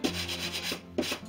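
Thin wooden rudder ribs being sanded to clear away burrs, a close, steady abrasive rubbing in repeated back-and-forth strokes with a brief pause before the next pass.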